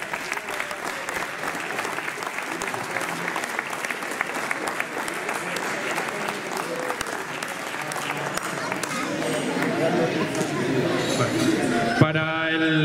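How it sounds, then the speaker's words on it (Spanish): At a poultry show and breeding contest awards ceremony in Albelda de Iregua, a crowd claps steadily and densely for a prize winner. Light chatter mixes in, and the applause swells slightly toward the end. "Un aplauso para él también."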